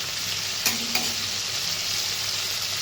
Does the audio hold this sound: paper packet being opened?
no